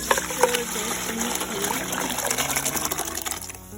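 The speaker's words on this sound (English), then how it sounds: "So we're gonna take a pot and pour this in" Thai soup liquid made with oyster sauce, fish sauce and lemon juice pours steadily into a pot, a continuous close gushing splash that runs for a few seconds before trailing off.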